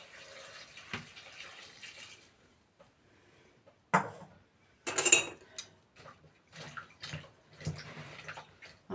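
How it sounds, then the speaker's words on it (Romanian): Boiling water poured from a pot over shredded cabbage in a home kitchen, a pouring splash of water starting abruptly, then intermittent splashes and clinks of dishes, fairly close and moderate in volume. "apa fierbe și acum turnăm peste varză."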